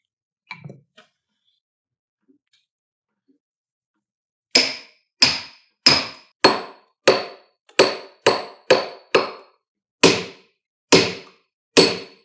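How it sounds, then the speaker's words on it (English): A sledgehammer strikes a steel splitting wedge in wood while a chair is being made, about eleven sharp, loud, ringing blows at a steady, slightly uneven pace, each one alone with silence between. "Why don't you sledgehammer that thing?"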